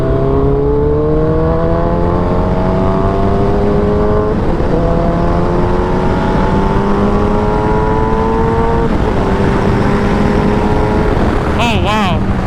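A Suzuki Hayabusa motorcycle engine roars loudly and close while riding, its pitch climbing steadily through the revs with a brief dip before rising again, and a fluttering change near the end.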